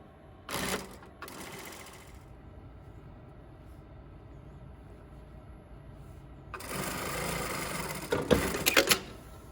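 Sewing machine stitching through three layers of a yoke, two short bursts of rapid mechanical stitching, a quiet pause, then a longer run of close, steady whirring stitching.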